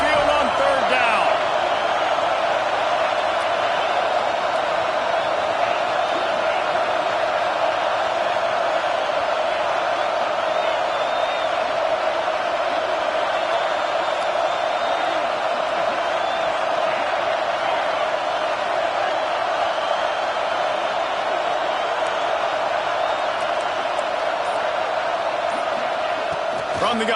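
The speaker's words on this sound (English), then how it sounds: "The Tide crowd rolling noise down onto Saban Field on third down." Large football stadium crowd at Alabama's Saban Field during a college game against Cincinnati, roaring on third down: a loud, sustained wall of crowd noise that rises steadily and holds throughout.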